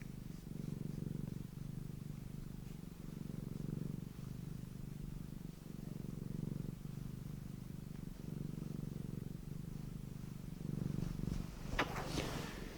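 A domestic cat purrs close up in a slow, regular rhythm of rumbling breaths, soft and steady for several seconds, with a brief rustle near the end.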